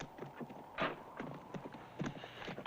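Horses' hooves clip-clop in an uneven rhythm at moderate distance, with a few louder scuffs and knocks standing out over a steady outdoor background in a Western setting.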